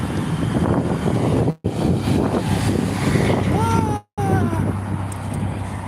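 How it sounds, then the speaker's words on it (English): Breezy wind blowing outdoors near a big tree on a walk, a steady rushing buffet against the microphone that runs throughout with two brief dropouts. "See, you can tell by the tree it's nice and breezy."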